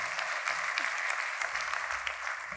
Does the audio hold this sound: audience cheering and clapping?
yes